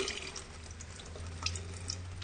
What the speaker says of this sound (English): So do you want to just pour some of that water down the sink then, Tom?